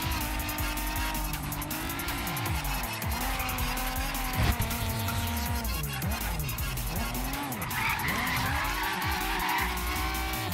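A McLaren in Forza Horizon 3 spins its wheels under full throttle, tires squealing continuously with sweeping pitch over a loud, steady engine roar throughout.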